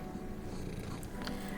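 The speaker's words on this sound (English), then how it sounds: "She's a tortoiseshell kitty." A tortoiseshell cat purrs steadily and close up, a continuous low rumble with no talking.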